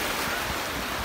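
Steady roar of sea waves washing onto a shallow, warm-water beach at Anapa on the Black Sea, a continuous dense wash with wind noise and no voices.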